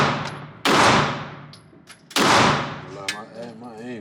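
Two loud, sharp gunshots at a shooting range ring out about a second and a half apart, each with a long decaying echo, followed by fainter clatter and a voice speaking briefly in the background.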